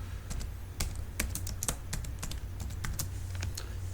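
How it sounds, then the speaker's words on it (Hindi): Typing on a computer keyboard, a quick irregular run of crisp key clicks, close and fairly quiet, with no voices. "ये मैंने कोरल ड्रॉ टाइप कर दिया।"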